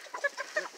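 A farm chicken giving a short burst of two or three quick clucks, close and moderately clear against a quiet background.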